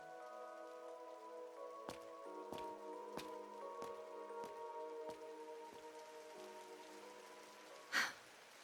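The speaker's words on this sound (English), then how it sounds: "Why'd it have to rain?" Rain falls in the video game Trails Through Daybreak, a steady soft patter beneath sustained gentle music, with scattered tapping drips and one brief louder splash near the end.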